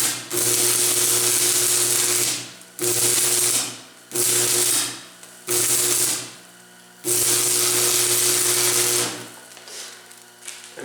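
Arc welding with 7018 rods on painted, rusted steel for snowblower skis produces loud, close, steady crackling hiss in several runs of a second or more, with short gaps between them.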